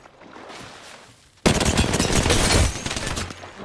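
Loud, rapid automatic gunfire bursts out abruptly after a quieter stretch and rattles on continuously in an Apex Legends match, dense and close, with no talking over it.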